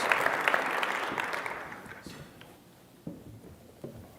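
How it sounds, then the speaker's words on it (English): At a college alumni Hall of Fame celebration, an audience applauds volunteers; the clapping is full at first, then fades away, leaving a few scattered, isolated claps. "a large round of applause for the work that they did to bring our Hall of Fame celebration back to campus."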